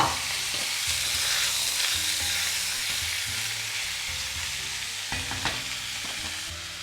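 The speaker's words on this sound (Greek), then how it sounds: "με λίγο λάδι που έχει μείνει μέσα στη κατσαρόλα θα τηγανίσουμε τώρα το χοιρινό μας" Pieces of pork frying in a pot with only leftover oil, giving a steady bright sizzle throughout, broken by a few scraping stirs near the end, with no talking.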